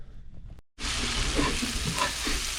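Shallots and oyster mushrooms with rosemary and thyme saute on a stovetop, a loud steady sizzle that starts abruptly after a brief quiet gap and holds with faint stirring.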